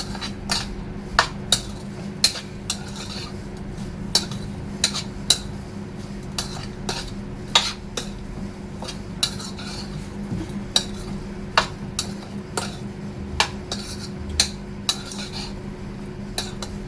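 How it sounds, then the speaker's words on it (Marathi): A spoon clinks repeatedly against a bowl while raw mango pickle is mixed, sharp irregular metallic taps over a low steady hum, close and without talk. "आता हे लोणचं आहे ना चांगलं मिक्स करून घ्यायचं आहे।"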